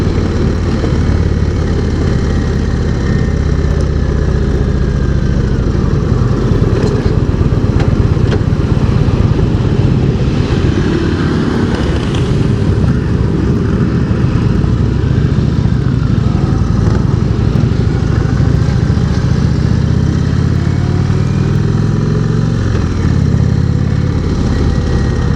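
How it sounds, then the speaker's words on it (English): Indian Springfield motorcycle on a demo ride, its engine droning loudly and steadily throughout with wind rumble and a thin whine of gears above the low exhaust note. "You do hear a little bit of gear whine."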